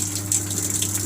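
Water gushes steadily into an IFB 6.5 kg top-load washing machine during a fill cycle, a continuous close rushing flow with a low pump hum underneath.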